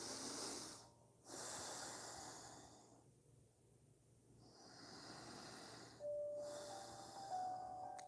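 Slow, deep breaths during a seated yoga twist: long airy exhales and inhales hissing close to the ear, separated by brief quiet pauses, with no talking.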